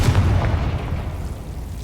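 The Confringo spell in the video game Hogwarts Legacy sets off a deep, rumbling explosion that starts loud and slowly fades, heavy in the low end.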